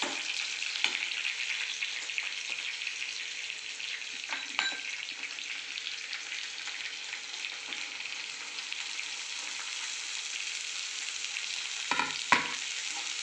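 Chopped cabbage fries in a pan for a spicy cabbage dal, a steady close sizzle that continues throughout with a few soft stirring knocks near the end and no talk.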